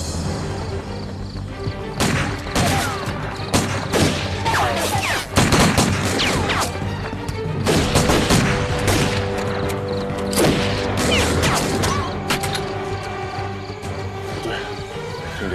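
Gunfire in a kung fu film chase scene with Japanese soldiers, bursts of sharp, loud shots and impacts in irregular clusters, with voices and action sounds mixed in.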